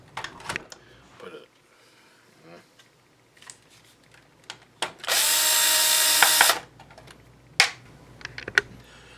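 A power drill loosens the screws on an NEC M300X LCD projector, one loud, steady whir of about a second and a half. Quieter clicks and handling noises of the work come before and after it.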